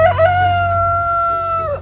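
Rooster crowing at close range near a high-sidewall greenhouse: a single loud, drawn-out cock-a-doodle-doo call with a rising start and a long held, strained tone, and no talk.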